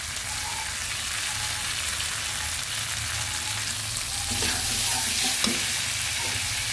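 Spice paste fries in a pan for a bottle gourd and fish head dish, a loud, steady sizzle with stirring scrapes that crackle brighter partway through, with no talking.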